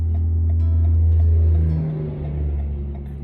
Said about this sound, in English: pay attention because there's a big truck coming.